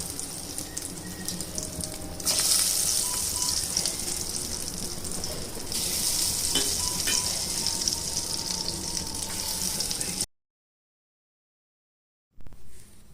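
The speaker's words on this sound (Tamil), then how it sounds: "ரொம்ப பாருங்கள், சீசல் அப்படியே வெளியில் வருது" Green gram and sweet corn paniyaram batter frying in hot oil makes a loud, continuous, hissing sizzle that swells for several seconds, then drops to silence before a short return.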